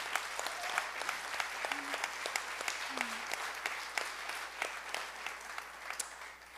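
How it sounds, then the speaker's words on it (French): An audience at an entrepreneurs' gala applauds, a steady patter of many hands clapping at moderate distance, with a faint voice or tone briefly rising above it. "Je pense qu'on devrait leur offrir une bonne main d'applaudissements pour commencer."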